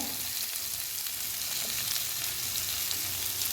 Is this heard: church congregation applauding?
no